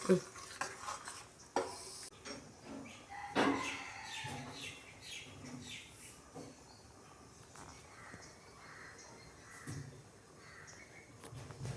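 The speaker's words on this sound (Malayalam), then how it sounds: "നല്ലോണം ഇളക്കി കൊടുക്കുക" A spoon scrapes and clinks through Kerala-style kadala (chickpea) curry simmering in a pot, irregular stirring knocks and scrapes over a soft bubbling sizzle, with a few birds calling faintly outdoors.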